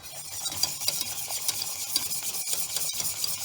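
Pastry cream stirred and cooked in hot milk in a pan until thick and glossy, giving a continuous close wet scraping and bubbling with steady irregular stirring strokes and no talk.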